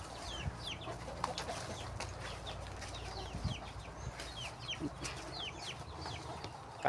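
Farm chickens cluck softly in scattered short calls over a quiet outdoor background, with a few soft knocks.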